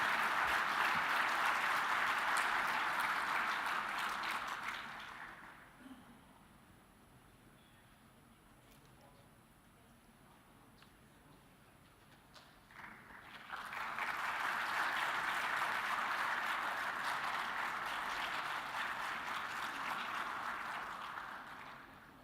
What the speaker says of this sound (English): Please join us for a round of applause for Albania.